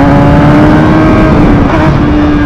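A loud, close motorcycle engine roars steadily at high revs in second gear, its tone holding then dipping slightly, with no voices over it.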